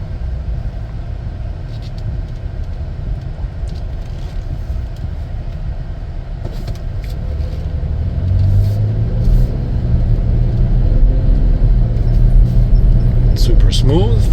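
A 2020 Chevrolet Traverse AWD 3LT pulls away from a stop, its low engine rumble building steadily and growing louder partway through, heard from inside the cabin while a person talks over it.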